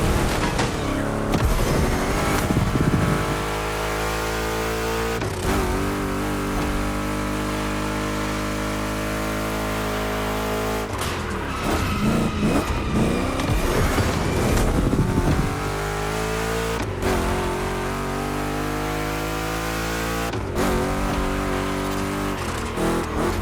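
Two Chevy big-block race cars in The Crew Motorfest roar loudly and continuously. Their engines rise in pitch through each gear, then drop with sharp shifts several times as they race.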